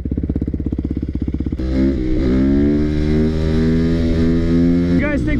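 A Yamaha WR450 dirt bike engine first putters in a rapid, even idle pulse, then rises into a sustained, strained high-revving drone, loud and close.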